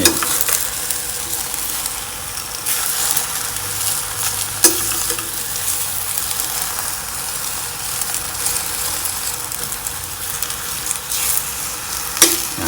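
Chinese cabbage stir-fried in a hot pan, a steady close sizzle and crackle running throughout with occasional scrapes and knocks of the utensil against the pan, no voices.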